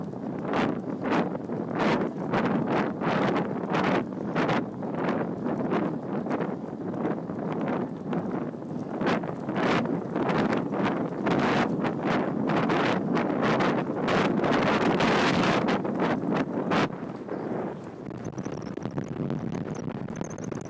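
Wind rushes and buffets across the microphone of a cyclist riding among trees at speed, a continuous loud roar with gusty surges and no talking.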